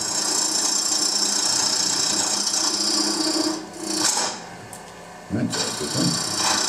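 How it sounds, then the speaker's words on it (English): Spindle gouge, a 1/2 inch round tool, cutting a small groove into wood spinning on a lathe: a steady, loud rasping scrape that carries through most of the stretch, breaking off briefly twice. "We just cut a little groove using a nice little 1/2 inch round spindle gouge."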